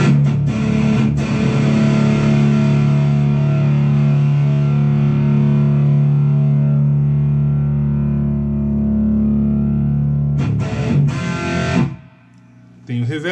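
Electric guitar played through the drive channel of a Mesa Boogie Tremoverb amp, a loud sustained distorted chord ringing out for several seconds, then a few more hard strums before a brief pause.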